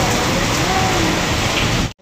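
Steady, dense rain in a storm hisses down without pause, a heavy even patter that cuts off abruptly at the end.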